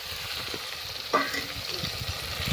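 Tomatoes dropped into frying eggplant oro and stirred, a steady low sizzle with one sharp utensil scrape in the middle, close and moderately loud.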